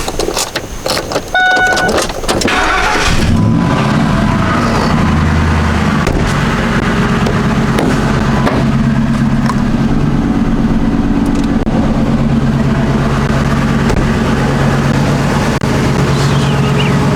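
A truck starter cranks briefly with clattering bursts, the engine catches and then idles in a steady, loud, close rumble for the rest of the time, with no talking.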